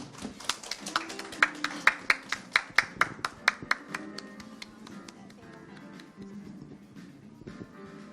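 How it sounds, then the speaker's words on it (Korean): Audience clapping at a product-management lecture event: sharp, distinct individual claps in a quick rhythm, loudest early, then thinning and fading into scattered softer claps. "여러분 박수 부탁드립니다."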